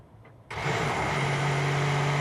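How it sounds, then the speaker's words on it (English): A Mercedes-AMG ONE hypercar's combustion engine cranks and catches after the electric start, then settles into a steady, loud idle hum that continues to the end, at a race track in Barcelona. "then the combustion engine will start"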